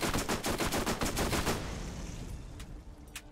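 Rapid automatic gunfire from the video game Borderlands rattles in a fast, loud burst that stops after about a second and a half, followed by a few scattered shots and fading echo.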